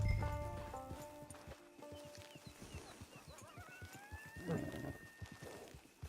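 A horse in the Red Dead Online video game whinnies with a rising call, accompanied by a steady clip-clop of hooves over a game soundtrack, moderately close.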